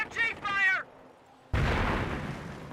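A short high voice call is followed by a mortar round fired and bursting in Company of Heroes, a sudden loud blast with a rough rumbling tail.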